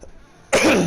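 A single harsh, close cough bursts out after a moment of near silence.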